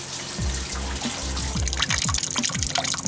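Sparge water for an all-grain IPA brew pours continuously into a vessel above the grain bed in batch sparging, a loud steady splashing and gurgling with low glugging pulses.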